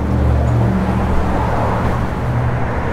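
An Aniioki AQ177 Pro Max e-bike runs at full throttle on pedal assist 5 in fourth gear, climbing a steep 12% grade. The motor whirs steadily over close, constant rumbling wind and road noise.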